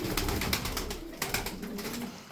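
Malatya performing pigeons flapping their wings in a rapid, fluttering burst, close by, with soft cooing underneath.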